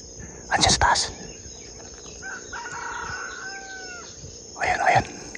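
Wild red jungle fowl rooster crows in two bursts at the start and end, mid-distance outdoors, with crickets and faint insect hum running steadily underneath and a quieter bird call in between.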